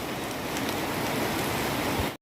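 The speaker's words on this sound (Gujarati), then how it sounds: "ફૂલ વરસાદ આવી ગયો એકદમ ફાસ્ટ" Heavy, fast rain pours down in a dense, steady roar that fills the whole stretch until it cuts off abruptly, with no voices heard.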